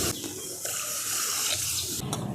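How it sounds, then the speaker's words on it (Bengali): Water runs steadily into a wok, a continuous close splashing pour for boiling lentils in a vegetarian home kitchen. "তার জন্য কড়াতে জল দিয়ে"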